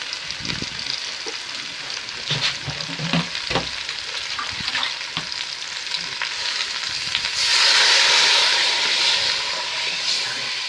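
Water is poured into a pot of bananas frying on the stove; crackling sizzle and stirring clatter give way to a loud, sustained hiss as the liquid hits the hot pot, then settle into steady bubbling.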